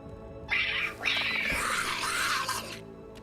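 A cat meows in the video game Dragon Age: The Veilguard, one long drawn-out, whiny caterwaul rising and falling for about two and a half seconds, loud and close over faint game ambience.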